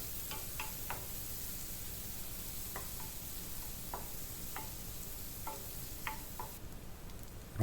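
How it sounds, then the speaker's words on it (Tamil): Chopped medium-sized onion frying lightly in a pan for mushroom soup gives a faint, steady sizzle, with sparse soft clicks of a spoon stirring at irregular intervals and no talking. "இதோட மீடியம் சைஸ் வெங்காயத்தை கட் பண்ணதை அதையும் இதில் சேர்த்து இதை நம்ம லேசாக ஃப்ரை பண்ணிப்போம்."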